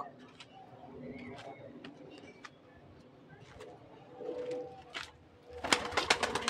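A red-eyed pigeon kept for six years coos softly in repeated low phrases, with scattered clicks and shuffling noises and a person talking intermittently nearby.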